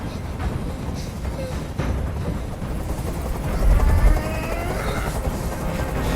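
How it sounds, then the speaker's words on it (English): A helicopter's low, continuous rotor rumble in the game Detroit: Become Human drones steadily, swelling slightly louder partway through, with faint game effects mixed in. "I can't stand that noise anymore. Tell that helicopter to get out of here."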